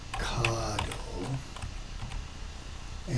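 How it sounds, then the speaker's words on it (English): Fingers tap out a short word on a computer keyboard, a quick run of light clicks, with a voice murmuring faintly at the start. "Let me type in this section here"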